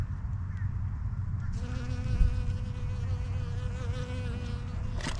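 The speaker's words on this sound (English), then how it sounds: "Oh, and we got a little bee." A small bee buzzes among garden plants, a close, steady droning hum that starts abruptly and holds, with faint outdoor background beneath.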